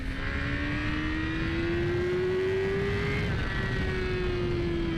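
A 2017 Yamaha R6 sport motorcycle engine drones steadily at high revs, its pitch rising slowly and holding, loud and close throughout.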